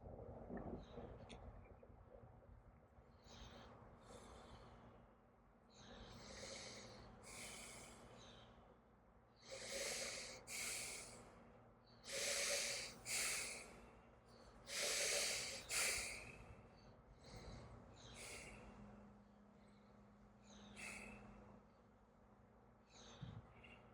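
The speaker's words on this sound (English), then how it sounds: "So a contraction only with that one breathing pattern might sound like this." A person breathes through a labour contraction in and out through the nose, with a slow series of rhythmic inhales and exhales that build in strength through the middle and then ease off, close and fairly quiet.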